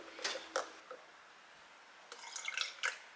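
Vinegar poured into a dancing rice experiment, heard as a few soft splashes and drips, quiet and close, with a brief pause before a denser run of trickling.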